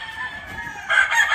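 A black ACL rooster crows nearby, a loud strained call rising sharply partway through, brief and alone on a farm.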